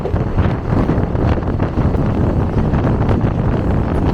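Strong southwest monsoon wind buffets the microphone during a passenger train journey between Madurai and Sengottai, India, with a continuous loud roar and gusty rumble throughout.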